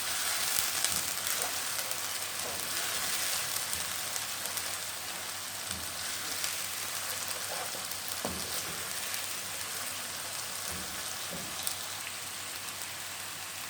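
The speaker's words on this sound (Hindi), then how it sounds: "इसको 1-2 मिनट और भूनेंगे ताकि लहसुन अदरक का जो कच्चापन है वो ख़त्म हो जाए।" Garlic and ginger paste frying in a pan for baingan bharta, a steady close crackling sizzle running throughout with faint stirring clicks, no voices.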